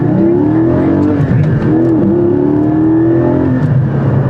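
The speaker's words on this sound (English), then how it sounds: "And the engine sounds great, but it's not super loud and super obnoxious." A Porsche Cayman GT4 engine pulls hard in a straight line, a loud, continuous rising engine note with smooth revving heard from inside the car, no talking.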